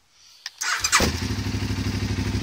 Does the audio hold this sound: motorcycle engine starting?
yes